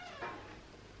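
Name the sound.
cat meowing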